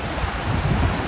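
Floodwater surging in waves during heavy rain in the UAE, a dense continuous rushing and roaring wash with low rumble and wind buffeting, loud and close throughout.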